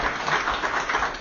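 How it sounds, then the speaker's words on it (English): A crowd applauding steadily, a dense wash of clapping that holds at an even level for a second or so with no voices over it. "If that doesn't deserve a hand of applause, nothing does."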